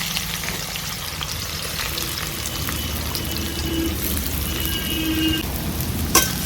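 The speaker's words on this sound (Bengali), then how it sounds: "এবার দিয়ে দিচ্ছি পেঁয়াজ কুচি।" Chopped onion frying in hot white oil for a Bengali yogurt chicken, with a steady loud crackling sizzle throughout and a brief clink of a utensil near the end.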